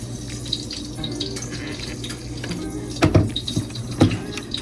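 Water streams steadily from a kitchen tap with a hissing splash, punctuated by a couple of louder gushes or clunks near the end, while mixing kimchi pancake batter.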